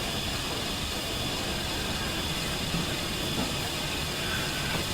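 Steam locomotive Duchess hauling twelve coaches on the Settle–Carlisle line, stopping at Ribblehead Station: a steady, loud hiss and rumble of steam and rolling stock runs unbroken throughout, with no speech.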